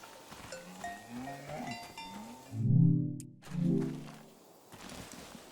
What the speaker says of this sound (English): The name of this cow is TVC15